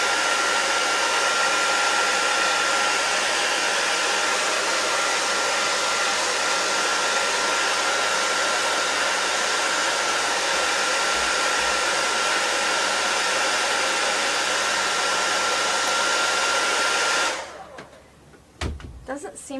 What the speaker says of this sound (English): I'll do the blow dryer on camera, which I never do because it's so loud.